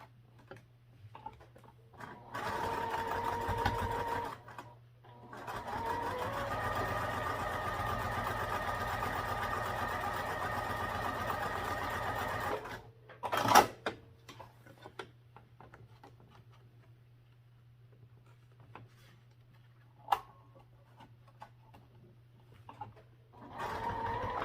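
A sewing machine stitches a backpack between two markings on folded long edges in two sustained runs, a short one then a longer one, over a faint constant hum; afterward come quieter clicks and small handling noises.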